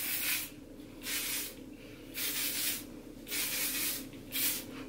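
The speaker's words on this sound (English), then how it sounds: "I like a little bit of hairspray to just kind of give it some texture" Kenra hairspray hisses onto short hair in four or five separate bursts of about half a second each, close to the microphone, with quiet gaps between them.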